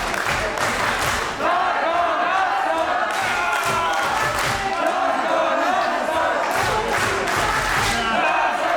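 A wrestling arena crowd roars and cheers for a fan-favourite wrestler, a dense, loud wall of shouting voices with repeated swells and peaks, continuous from start to end.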